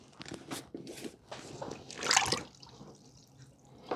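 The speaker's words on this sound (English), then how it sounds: "So now we're gonna dunk this in the water and see how waterproof it actually is." A Mission Darkness Faraday bag is dunked into water, giving several close splashes, drips and sloshing sounds, with one louder burst of splashing midway and no talking.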